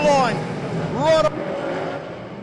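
Speedway race cars roaring past on a dirt track, loud engine drone with rising and falling pitch as cars pass, under continuous race commentary.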